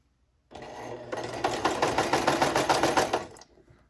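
A sewing machine understitching a wrap dress through interfacing and seam allowance, running steadily for about three seconds with a rapid, even needle rhythm, close and fairly loud, starting up and then slowing to a stop.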